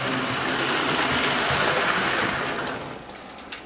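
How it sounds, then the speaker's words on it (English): Bachmann Overland Limited 4-8-4 model steam locomotive running at medium speed, a steady broadband hiss and rumble of the small drive and wheels on track that fades slightly near the end, with no talking. "This is definitely a mainline high-speed locomotive, so let's get some medium speed out of it."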